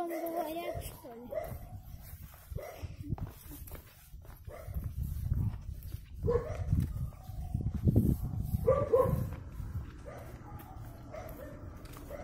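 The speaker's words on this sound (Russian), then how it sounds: "Видишь, тут собаки гавкают" Several dogs along a village street bark, yip and whimper intermittently at moderate distance, with people talking over them.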